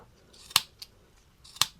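Two crisp scissor snips about a second apart, with a faint click between them, close and clear against a quiet background.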